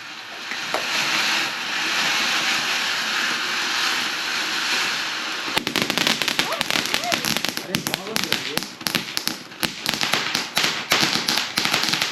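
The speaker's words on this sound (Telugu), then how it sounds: "అది ఫైనల్లీ ఒక చిచ్చుబుట్టు వచ్చింది." A Diwali flower pot firework (chichubuttu) burns with a steady fizzing hiss, then breaks into rapid, loud crackling and popping bursts, with people talking nearby.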